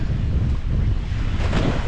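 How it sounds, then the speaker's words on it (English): Strong wind buffeting the microphone in a loud, continuous roar, with rushing water and surf beneath it, aboard a sailboat at sea. "It's hellish windy!"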